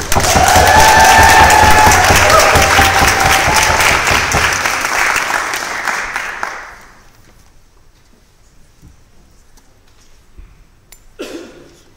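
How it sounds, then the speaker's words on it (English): Thunderous applause fills a debate chamber, loud and dense with some cheering, holding for about six seconds before dropping away to near silence, with a few faint scattered claps and a brief thump near the end. "you'll be greeted to a thunderous round of applause"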